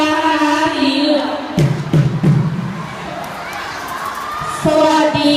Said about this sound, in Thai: ไปนี้จะเป็นการเชียร์คณะสีเหลือง